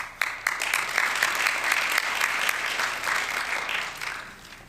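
Steady applause from members at a district meeting greets the newly introduced chairman, a full, even roar of clapping that fades slightly toward the end.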